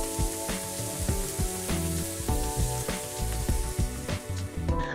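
Hot tempering with asafoetida and curry leaves hisses and sizzles loudly and steadily into a pot of tomato rasam, a dense continuous crackle with no one talking.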